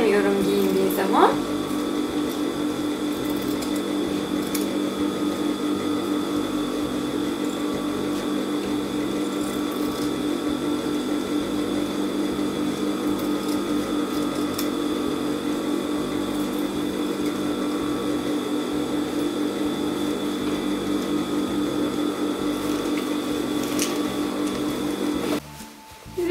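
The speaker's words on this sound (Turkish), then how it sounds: "Ve dikiş böylece tamamlanmış oldu." A sewing machine runs steadily while stitching a repair on torn denim jeans, a continuous mechanical hum and whir that holds at a constant level from start to finish, then stops abruptly near the end.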